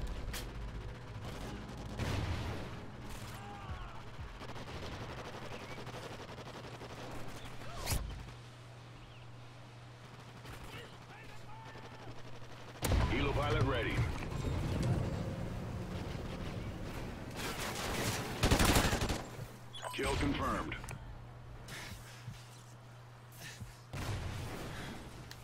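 Call of Duty Ghosts multiplayer gunfire comes in scattered loud bursts separated by quieter stretches, with a low steady hum underneath and some rattling impacts.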